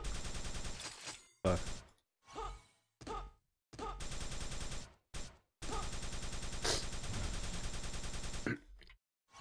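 Gunfire and blasts in the FPScup-03 first-person shooter map, including a grenade launch: loud bursts separated by short silences, close and repeated, with no talk over them.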